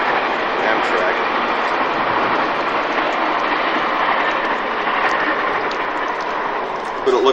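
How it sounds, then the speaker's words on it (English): An Amtrak train runs past steadily and fairly close, a broad continuous rumble and rush that holds level throughout, in the aftermath of a December 1992 nor'easter. "Train going,"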